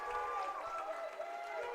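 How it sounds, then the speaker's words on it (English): The CMU home crowd applauding and cheering after a women's wrestling tech-fall win, a steady wash of clapping and crowd noise filling the arena throughout. "And the CMU home crowd is loving it."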